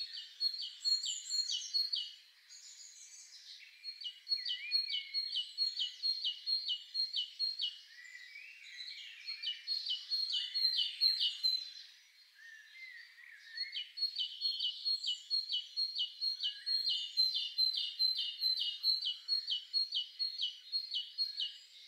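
Birds chirping in an animated short, bright repeated trilling song phrases in bursts with brief pauses between them, clear and moderately loud with no voices.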